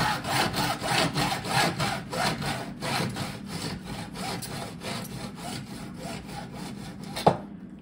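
Hand saw cutting through PVC sprinkler pipe during an inline repair, with steady back-and-forth rasping strokes running throughout, close and loud, ending in a brief knock and then silence.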